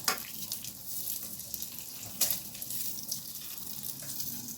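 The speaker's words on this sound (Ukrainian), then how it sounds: "І обсмажую, чекаю коли розтопиться, перевертаю" Pork fat rind fries in a pan while the lard renders out, giving a continuous soft sizzle with small crackling spikes and pops, close and moderately quiet, with no voices.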